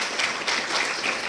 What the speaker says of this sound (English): So if you guys could please just give them a round of applause